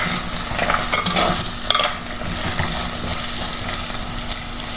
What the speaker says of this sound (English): Here you can see I'm adding the seeds after cleaning and washing them and cutting into half.